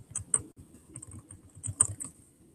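Fingers tap out a search on a computer keyboard, producing soft, quick, irregular keystrokes close to the microphone with no voices.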